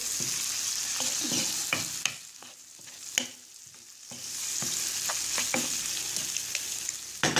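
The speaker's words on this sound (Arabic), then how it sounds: "نخليه يتقلى شويه يطيب هذاك البصل" Onions and mushrooms fry in a pan with a steady close sizzle, broken by a few sharp clicks of a utensil stirring against the pan and a short quieter stretch in the middle; nobody speaks.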